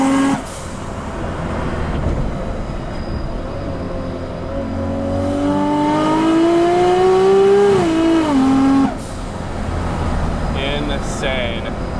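Nissan Skyline GT-R with an automatic transmission and a big turbo revs hard, its engine pitch climbing steadily then dropping briefly at a shift before pulling again, loud and close from inside the car, with someone talking over it.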